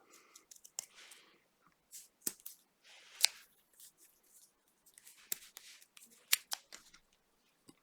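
Scissors snip through tape for a homemade spectrometer built from an old CD, giving quiet, irregular clicks and short crisp cuts with light rustling of the tape between them, close by and with no talking.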